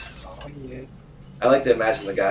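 A window shatters from a punch in the video game SUPERHOT, a sharp crash with glassy tinkling that arrives after a man's speech and briefly overlaps it.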